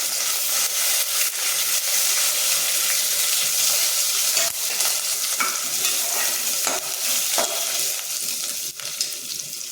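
Ginger and green chili sizzle in a hot pan while a spoon stirs and scrapes at irregular intervals, steady frying hiss throughout.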